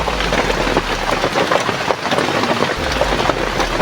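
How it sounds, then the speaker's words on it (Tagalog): Heavy rain pours steadily, a dense hiss with scattered drops striking a surface nearby and a low rumble underneath. "malakas yung ulan eh"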